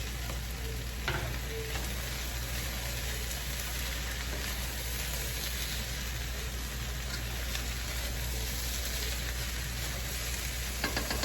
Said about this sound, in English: So now I'll go ahead and add the sausage.